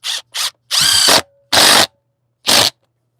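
A power drill drives screws into a block of wood being secured for chainsaw carving, giving five short whirring bursts, the middle three longer and louder, close by with pauses between.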